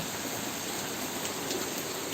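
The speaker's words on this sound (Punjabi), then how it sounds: "ਧਮਾਕੇਦਾਰ ਪੈਂਦਾ ਹੋਇਆ ਮੀਂਹ" Heavy rain pouring down in a Punjab village, a dense, constant roar of falling water close by, loud and unbroken, with no voices.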